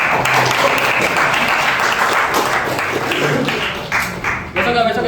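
Students in a math class applaud steadily, a loud, dense wash of many hands clapping that carries on for several seconds with voices underneath.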